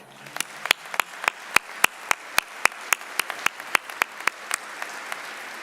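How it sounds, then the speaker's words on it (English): Audience at a spring commencement ceremony applauds to salute the faculty, a sparse run of distinct, evenly spaced loud claps over a soft wash of wider clapping, steady for several seconds with no talk. "Please join me in saluting our faculty with a round of applause."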